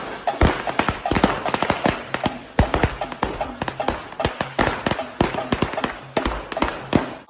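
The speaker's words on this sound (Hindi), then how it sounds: "पटाखे फूट रहे हैं।" Firecrackers bursting at a Congress party victory celebration at the Gandhi Bhavan headquarters in Nampally: a rapid, irregular string of sharp, loud cracks close by, with voices audible underneath.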